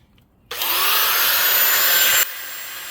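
Wet polisher spinning a 200 grit pad against stone: quiet at first, then a loud high-pitched motor whir kicks in abruptly, holds for under two seconds and cuts back to a lower hum.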